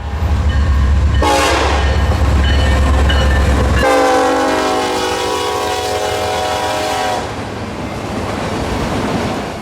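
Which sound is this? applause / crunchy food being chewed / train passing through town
train passing through town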